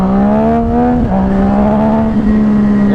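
A Yamaha FZ-09 motorcycle launches from a start line, the engine roaring close and loud with rising revs and quick shifts through the gears, no voices.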